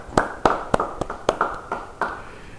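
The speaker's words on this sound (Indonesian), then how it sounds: "Yang percaya beri tepuk tangan buat Tuhan." A church congregation claps during a service: sharp, fairly evenly spaced handclaps, about eight in a row, close and distinct rather than a dense wash of applause.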